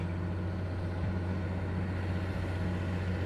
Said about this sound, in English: Here's Joe coming down on the rake, raking off.